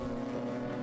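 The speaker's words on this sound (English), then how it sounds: "lovely rasp of BMW engine as they come back towards us for the end of the first lap" BMW Car Club racing cars at Silverstone National circuit, engines rasping with a steady droning tone as they pass close by, loud and continuous for under a second.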